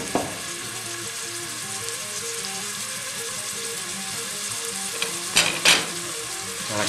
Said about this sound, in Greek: Αφού κάψει το λάδι μας, ρίχνουμε μέσα το κρεμμύδι. Μαζί με το σκόρδο, όπως τα κόψαμε πιο μπροστά.